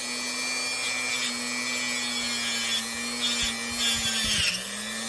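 A small rotary buffing tool polishes scratches out of a piece of jewelry, a steady high whine with brief rubbing and scraping bursts as the tip meets the metal, close and alone.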